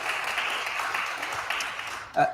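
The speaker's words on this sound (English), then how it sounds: "Another round of applause." An audience at a Turin talk on distributed ledgers for IoT gives a round of applause, a dense, steady clapping that holds and then ends with a brief voice.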